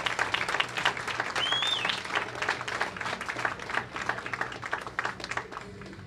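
Steady round of applause from an audience at a youth bowling championship medal ceremony, dense clapping that holds for several seconds and slowly thins toward the end.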